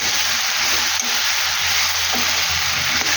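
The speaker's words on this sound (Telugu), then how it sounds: "ఇది ఆయిల్లో మంచిగా డీప్ ఫ్రై అవ్వాలి" Okra and tomato deep fry in hot oil, a dense, steady sizzle that crackles continuously up close without a break.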